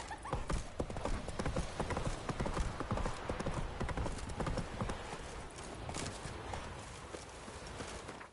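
A horse gallops in The Witcher 3 with loud, steady, close clip-clop hoofbeats throughout and a brief whinny, and no speech over it.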